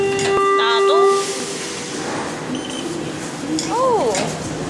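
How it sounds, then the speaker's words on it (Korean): A subway train pulls into a Buenos Aires station, loud and close, with steady rumbling and hissing, a sustained tonal whine and rising-falling pitch sweeps as it slows and stops. "지하철 왔어요"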